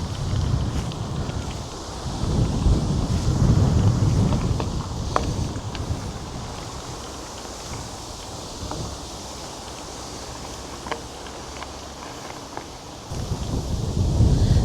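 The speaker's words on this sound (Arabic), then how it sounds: "في هوا ماكن" Strong wind gusting across an open hiking trail in Europe, a steady broadband rush buffeting the microphone, loudest at the start and end, with faint footsteps and rustling beneath and no talking.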